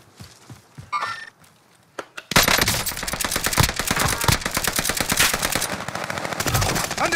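Rapid automatic gunfire erupts in a squad battle royale video game, starting with a few scattered shots and then becoming a loud, sustained burst of closely spaced rounds.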